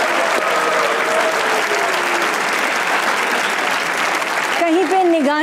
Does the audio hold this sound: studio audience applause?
yes